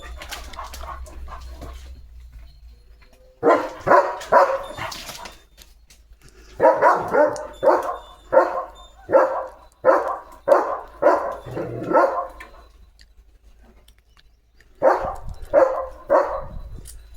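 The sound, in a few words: dog Leo barking at cattle herders' dogs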